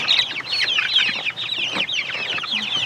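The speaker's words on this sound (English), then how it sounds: "a little salmon Favreau rooster" Chickens, among them a small salmon Faverolles rooster, cluck and squawk in a busy, overlapping chorus close by, loud and continuous without pause.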